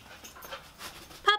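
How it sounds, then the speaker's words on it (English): A puppy panting in quick, soft breaths close by, ending in a sudden high whimpering yip. "Puppy, what are you doing?"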